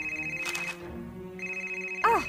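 A cell phone ringtone trills in a dark movie theater, a steady electronic tone that pauses and resumes, with voices talking over it near the end.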